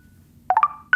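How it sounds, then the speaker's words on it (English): A Tinder match notification chime: a quick run of three rising bright electronic tones followed by two more, clean and close against a quiet background. "recognize that's the sound of a Tinder match"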